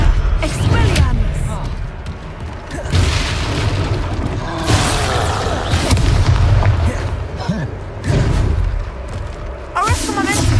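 Spell effects from the video game Hogwarts Legacy: repeated booming blasts and whooshing magical bursts, loud and close, mixed with a player's voice over heavy action.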